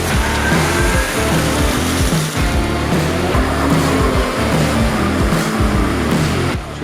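A Toyota Tacoma powers into a deep muddy rut, the engine roaring loud and strained with repeated revving surges, wheel spin and sloshing mud, close and continuous.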